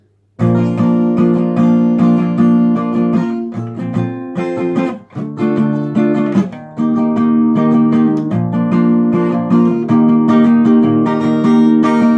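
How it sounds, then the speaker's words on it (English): Acoustic guitar chords strummed loudly in a steady rhythm, changing chords every second or two with a brief pause midway, with no voices. "then you play all these chords again with the same strumming pattern"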